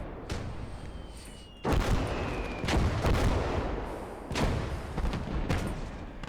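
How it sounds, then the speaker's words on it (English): Mortar shelling in the WWII strategy game Call to Arms: Gates of Hell: heavy booming impacts land in several separate bursts over a rumbling battlefield background, loud and close, with no voices. "Mortars is still going as well. So we'll just shell the area for a bit."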